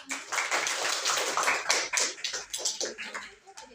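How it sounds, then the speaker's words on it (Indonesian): Applause in a classroom or meeting, a steady burst of hand clapping from a group lasting several seconds before tapering off. "tepuk tangan dulu untuk ini"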